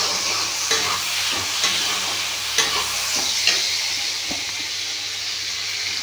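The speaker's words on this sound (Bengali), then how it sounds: "একটা হালকা করে ভেজে নেব যাতে টমেটোর গন্ধটা," Tomato frying lightly in oil in a pan for an okra curry with green chilli, a steady hissing sizzle broken by a few sharp scrapes and taps of a spatula as it is stirred.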